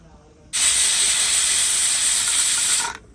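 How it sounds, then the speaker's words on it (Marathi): A pressure cooker on a wood-fired stove releases steam in a loud, sharp hiss that starts abruptly, holds steady for about two and a half seconds, then cuts off, heard close with no talking. "कुकर आणि चुलीवर कुकर लावलं आपण"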